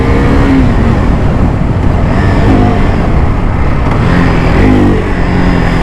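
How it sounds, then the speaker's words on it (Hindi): An R6 V90 motorbike engine in a street-racing video game drones loudly and continuously, its pitch rising and falling as the rider works the throttle, with no talking over it. "अभी मैंने बाइक स्विच कर लिया है, I am riding the R6 V90।"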